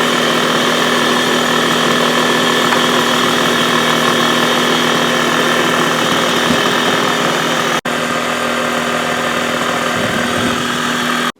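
Engine of a 1980 Suzuki FZ50 moped running close up with a loud, steady buzzing drone, one brief dropout near the end before it carries on, with no speech.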